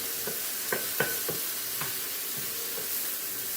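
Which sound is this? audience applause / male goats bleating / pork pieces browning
pork pieces browning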